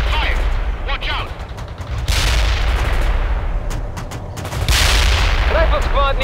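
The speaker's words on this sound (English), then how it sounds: "Incoming fire!" Incoming gunfire and heavy battlefield combat in the World in Conflict strategy game, with sustained loud shooting and booming blasts, sharp bursts around two and five seconds, and radio-style voices calling out over the din.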